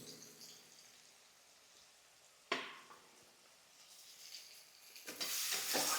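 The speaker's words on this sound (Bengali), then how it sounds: "পেঁয়াজটা ভালো করে এবার ভেজে নিই" Onions fry in hot oil for a Bengali fish curry, a faint steady sizzle with a sharp stirring scrape midway and louder bubbling crackle near the end.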